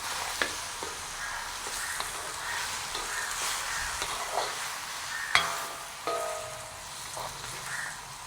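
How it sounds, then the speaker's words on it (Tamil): Mutton curry being stirred in a pan, with steady frying sizzle under scraping strokes and occasional sharper clinks of the spoon against the metal. "வடிவாக திருப்பவும் நாங்கள் இப்படி கிண்டி விட வேணும்."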